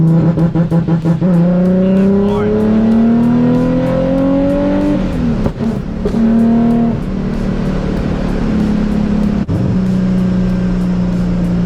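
A Nissan 350Z drift car engine revving hard with rolling anti-lag, loud and close, the pitch rising and falling repeatedly with sharp pops and crackles, a rapid stutter at the start and no talking.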